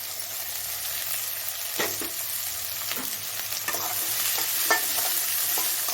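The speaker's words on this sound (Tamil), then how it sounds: "வெங்காயம் இந்த கருவேப்பில் இந்த பச்சை மிளகா இது எல்லாத்தையும் நம்ம போட்டுக்கலாம் வெங்காயம் வந்து கொஞ்சம் நல்லா வதங்கி வரட்டும்" Onions, curry leaves and green chillies sauté in a pan with a steady close sizzle. Occasional scrapes and taps from a stirring spoon break through, and no voices are heard.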